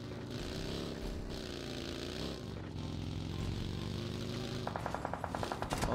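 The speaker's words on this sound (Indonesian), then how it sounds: "Oh ada yang nembak disitu, pantes." Rapid gunfire crackles in quick bursts near the end of a stretch of steady vehicle engine drone in a battle-royale style shooter game, loud and close.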